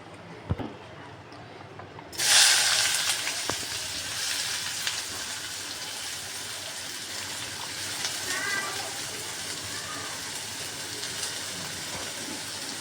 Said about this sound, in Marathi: तेल तापलंय, कांदा टाकलाय